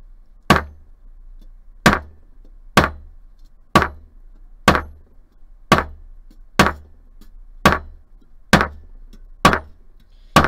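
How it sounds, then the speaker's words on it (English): A steel hammer strikes metal over an Impress Art texture stamp, landing about a dozen sharp, evenly spaced blows roughly once a second, each crisp and close with a quick ringing decay. "It's literally designed to hammer all over and make a texture."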